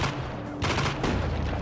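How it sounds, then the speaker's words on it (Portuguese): Rapid bursts of gunfire in the mobile game Johnny Trigger, many shots in quick succession with a dense, crackling texture and a brief dip partway through. "Nossa, o boss vai sofrer com essa arma. Ela dá vários tiros."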